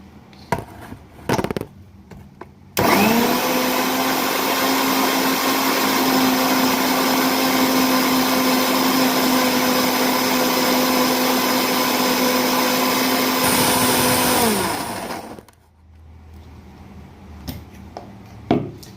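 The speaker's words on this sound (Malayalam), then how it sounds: "ഈ മിക്സി അടിക്കുന്ന സൗണ്ടൊക്കെ വരും കേട്ടോ" A kitchen mixer grinder runs loud and steady for about twelve seconds with a sustained whine, then winds down and stops, with quiet room sounds before and after.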